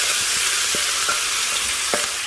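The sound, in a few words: beef browning in a hot oiled pan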